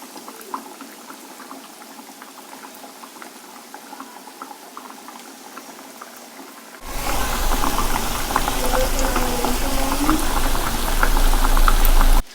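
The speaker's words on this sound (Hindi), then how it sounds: "अब हम इसमें इसको आराम से डालते जाएंगे। मीडियम सी हीट पर हम इनको अच्छा गोल्डन फ्राई कर लेंगे।" Chicken donuts bubble in hot oil over medium heat, with a quieter simmering stretch before a louder, steady sizzle and crackle takes over and continues close and loud to the end.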